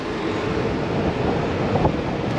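Strong stormy wind at a beach buffeting the microphone in a constant low roar, loud and unbroken, with no one speaking.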